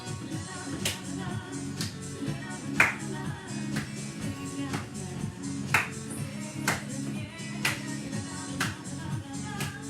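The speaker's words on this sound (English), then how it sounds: "Let's clap." A Latin dance fitness class claps in unison to a 123 BPM track. Sharp, evenly spaced claps land on the beat over steady music for several seconds.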